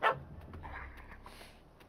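A single short dog bark sounds in The Witcher 3, loud at the very start and then fading into quiet ambient game sound.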